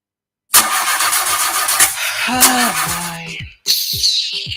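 A broken-down car in a radio ad cranks loudly and steadily for about three seconds, sputters briefly, cuts out, then cranks again in a short burst.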